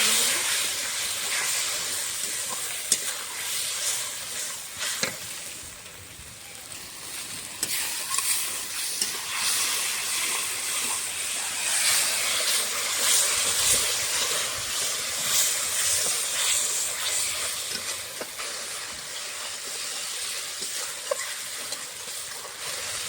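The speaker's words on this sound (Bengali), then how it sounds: "মশলাটা এখন কষিয়ে দেবো।" A spice paste of ground green and dried chillies with turmeric and salt fries in a pan, giving a steady loud sizzling hiss that carries on without a break.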